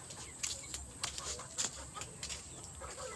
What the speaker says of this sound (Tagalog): Meron po kaming chicken.